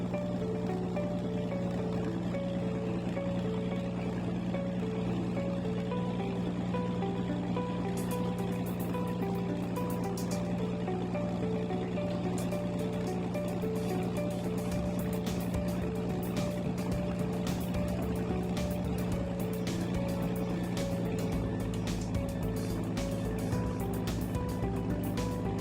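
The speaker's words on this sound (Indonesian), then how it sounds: "Beginilah penampakan ruang mesin ketika kapal sedang berjalan." A mangrove tour boat's engine runs in its cramped engine room in Wonorejo, Surabaya, a loud, steady mechanical drone with a deep hum and a rattling, whirring texture, joined later by a water pump's hiss and clatter.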